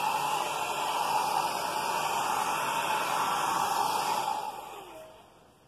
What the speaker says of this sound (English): air dryer, just playing over the surface bit by bit.